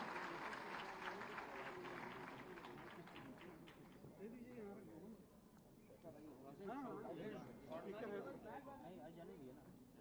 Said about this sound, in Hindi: आप जोरदार तालियों से उनका भी अभिनंदन करिए